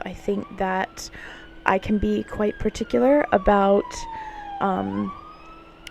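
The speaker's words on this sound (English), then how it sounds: "Apologies for the siren." A siren wails in the background, its pitch sweeping slowly up and down while a person talks steadily over it.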